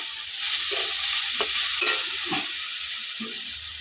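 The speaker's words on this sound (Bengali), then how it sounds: "এই যে মশলাটা কষানো হচ্ছে" Turmeric, chili, coriander and cumin powders stirred and sautéed in oil for a rohu fish curry, with soft scraping strokes of a spoon in the pan over a quiet, steady sizzle.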